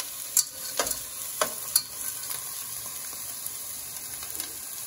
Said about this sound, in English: saute the onion. And 1 spoon of garlic.